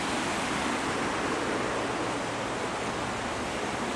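Tiber Creek flows beneath buildings in Ellicott City, Maryland, giving a constant, even rush of water, moderately soft and unbroken throughout.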